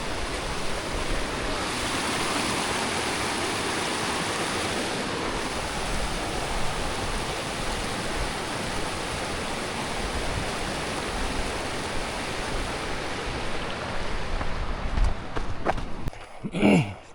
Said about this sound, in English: Is this the start of the Snake River?